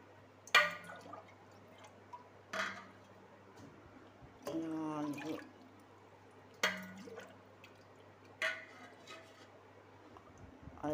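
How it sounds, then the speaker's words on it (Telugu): Water is poured glass by glass from a drinking glass into a pot of rice for coconut rice. It comes as a handful of short, separate splashing gushes spaced a few seconds apart over a quiet kitchen background. "గ్లాసులు వాటర్ పోస్తున్నాను అన్నమాట ఫ్రెండ్స్"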